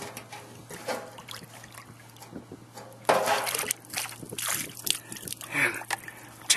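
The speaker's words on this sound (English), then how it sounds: "I'm going to dip some water to get a temperature" Water dipped and sloshed from a marsh dock in winter, with close splashing and trickling bursts, loudest in the second half, over a steady low hum.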